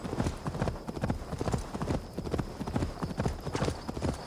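Horse hooves clip-clop in a steady, continuous rhythm from a ridden mount in the video game Assassin's Creed Valhalla. The hoofbeats are close and fairly loud throughout, with no speech over them.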